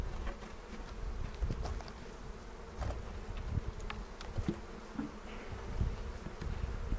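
Honey bees buzz steadily around an open beehive during a spring hive inspection, a dense droning swarm close by with faint handling bumps and no speech.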